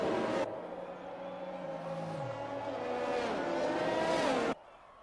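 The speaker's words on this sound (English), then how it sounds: "that was the first time I ever heard that Mercedes safety car engine zooming right past me" A Mercedes safety car in a racing video game at Bahrain zooms past close by, its engine a loud whine that climbs and shifts in pitch before cutting off abruptly.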